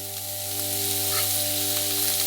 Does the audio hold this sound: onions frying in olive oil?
yes